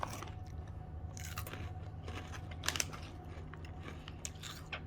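Calbee spicy corn chips being bitten and crunched up close, a few sharp crunchy bites with softer chewing between them over a steady low background hum, no talking.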